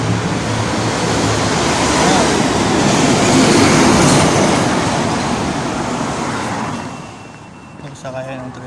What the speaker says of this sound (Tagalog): Nagsakaya ng tren.